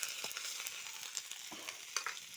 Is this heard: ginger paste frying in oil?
yes